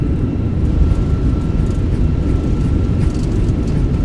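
Fenix A320 jet in MSFS 2024 landing at Hobart, thrust reversers deployed as it decelerates: a loud, steady low roar of engine rumble that holds constant throughout.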